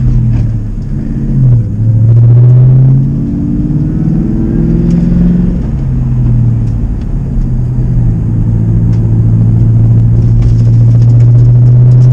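A Ford Mustang Bullitt engine rumbles low and loud while driving, deep steady drone swelling and easing as the throttle changes, with pitch sliding up and down through gentle acceleration.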